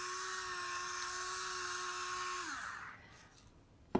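A Cole & Mason pepper mill grinds black pepper coarsely over rigatoni pasta, a continuous close buzzing whir for a few seconds that cuts off, followed by a small knock.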